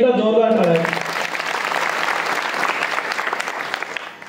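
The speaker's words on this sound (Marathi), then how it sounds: "त्या सगळ्यांसाठी आपण सर्वांनी एकदा जोरदार टाळ्या." A voice speaks briefly, then a large crowd at a Hindu devotional Harinam Saptah gathering bursts into loud, sustained applause that slowly tapers off.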